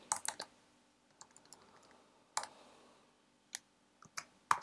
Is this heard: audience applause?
no